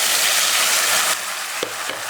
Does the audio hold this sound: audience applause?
no